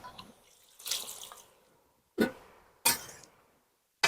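Water splashes onto salted bottle gourd leaves in a cooking pot in a few short, separate pours, close and fairly crisp, with quiet gaps between.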